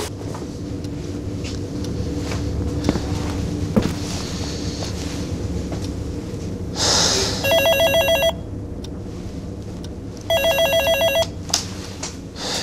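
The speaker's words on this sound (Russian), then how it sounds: "Ты же звонишь мне на стационарный телефон." Landline telephone ringing indoors, two sharp electronic ring bursts about a second long each, separated by a short gap and heard over quiet background noise.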